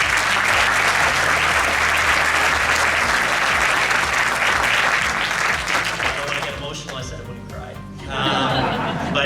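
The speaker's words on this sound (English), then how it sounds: "please give them a massive round of applause" An audience at a medical school fireside chat breaks into loud, sustained applause with a few chuckles, fading toward the end as voices and lighter clapping carry on.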